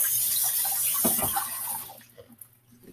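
Hands are washed under a running kitchen tap, a steady close stream of water with brief splashing as the hands move through it, then the flow quiets and tails off.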